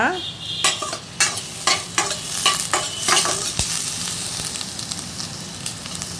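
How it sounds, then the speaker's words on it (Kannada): Chopped onion fries in a spoonful of oil, with rhythmic spoon scrapes against the pan over a constant sizzle that carries on alone toward the end. "ಈರುಳ್ಳಿನ ಕಟ್ ಮಾಡಿ ಹಾಕೋತಾ ಇದ್ದೀನಿ ನಾನು ಸ್ವಲ್ಪ ಫ್ರೈ ಮಾಡೋಣ"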